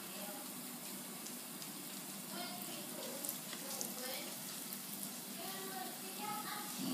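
Alcapurrias, banana fritters stuffed with cooked meat, fry in hot oil with a steady, loud, close sizzle and crackle that holds all the way through.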